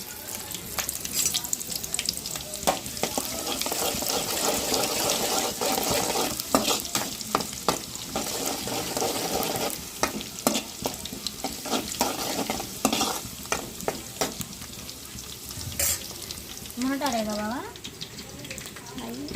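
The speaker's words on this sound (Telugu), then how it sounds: "ఉల్లిపాయలు అయితే ఇంక లైట్గా ఫ్రై అయినాయి" Onions, curry leaves and seasoning seeds sizzle loudly in a hot pan, stirred with repeated spoon scrapes and clinks; a voice speaks briefly near the end.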